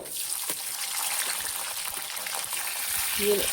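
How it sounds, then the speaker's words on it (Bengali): Chopped onion and bay leaves fry in mustard oil in a kadai, giving a steady, soft, hissing sizzle that stays fairly quiet throughout. "এখানে একটুখানি পেঁয়াজ কুচি আর তেজপাতা দিয়ে দিব"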